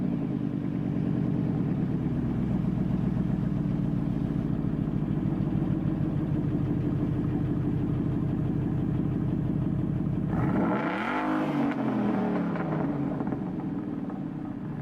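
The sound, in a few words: Ford Mustang Boss 302 engine revving through side exit exhaust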